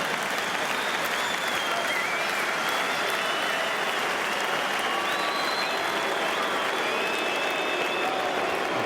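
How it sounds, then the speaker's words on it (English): A large football stadium crowd at a Real Madrid versus PSG friendly keeps up continuous, dense applause and cheering, a steady roar with faint whistles on top. "The crowd are anticipating."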